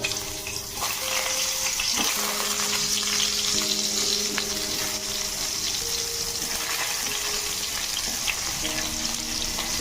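Potatoes fry in hot oil in a pan, a dense, steady sizzle with crackling and faint stirring and scraping, heard up close and without talk.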